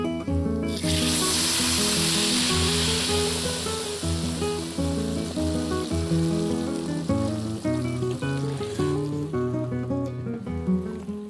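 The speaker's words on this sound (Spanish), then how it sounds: "Pues simplemente añadir el fumé." Fish stock pours into a pot of toasted bread for a fish soup, a steady loud wash of liquid hiss and sizzle that runs on without a break. Music plays underneath and no one talks.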